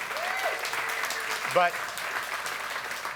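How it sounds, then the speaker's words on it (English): An audience at a church gathering claps warmly and continuously while a single spoken word briefly rises over the applause. "yeah, you can clap for them."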